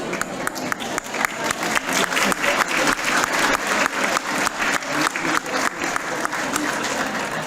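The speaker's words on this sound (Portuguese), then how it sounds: "bater palmas, por favor, bater palmas" A crowd at a clinical-cycle medical school ceremony applauds in unison with strong rhythmic claps, loud and steady throughout.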